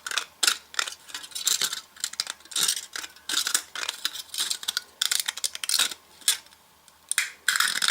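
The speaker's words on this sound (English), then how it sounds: "I'm going to slowly, carefully cut right along the line with my scissors" Scissors snipping through a thin aluminum can in quick, crisp metallic clicks and crunches, a close, irregular series of short cuts with brief pauses and no voices.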